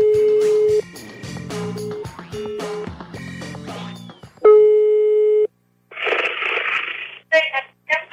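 Telephone line tones from a Brazilian prank phone call: short repeated pulses of a steady electronic tone, then one longer loud tone, followed by bursts of noisy line crackle.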